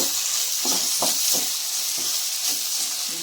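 Chopped okra frying in a pan on a stove, a steady bright sizzle with a few soft stirring scrapes and bumps breaking through, close and continuous.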